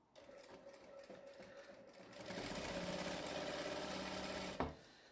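A sewing machine stitching a tote bag starts up after a quiet moment, settling into a steady fast mechanical whir close by, then stops with a sharp clunk near the end.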